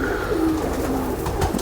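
An Indian pigeon coos nearby, a short low throaty call with a soft rising and falling warble over a steady background hiss.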